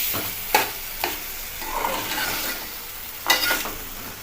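A dry paste of onion, coconut, ginger and garlic fries in oil with a soft, close sizzle, broken by a few sharp stirring scrapes, and no one speaks.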